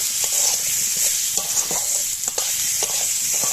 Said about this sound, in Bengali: এগুলো আমি একসঙ্গে একটু কষিয়ে নেব